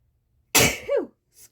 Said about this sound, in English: Sorry, I'm going to sneeze, guys.